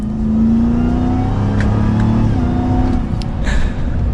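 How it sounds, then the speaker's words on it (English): A supercharged 2023 Ram TRX Havoc Edition truck accelerates gently, its loud, steady engine drone and rising supercharger whine filling the cabin for about four seconds, with no talk. "we'll do one slight acceleration here to finish it up"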